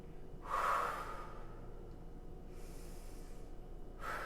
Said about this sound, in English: You're going to take air in through your nose and exhale through your mouth.